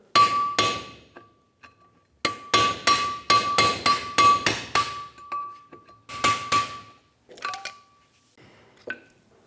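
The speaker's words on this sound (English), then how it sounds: "Use a pry bar or a chisel, whatever you have, and a hammer, and remove this seal off of the back of the rotor." A hammer strikes a pry bar to drive the seal off the back of a Ford E-350 Super Duty front rotor, loud ringing metallic blows in quick bursts with short pauses and a few lighter taps at the end.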